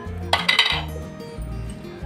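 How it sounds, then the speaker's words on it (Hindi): Pots and utensils clatter in a home kitchen while chicken daliya cooks: a burst of bright metallic clinks and scrapes, close and clear over a low, steady hum. "सॉरी व्यूअर्स, किचन है तो ये कुछ खटपट होती रहती है।"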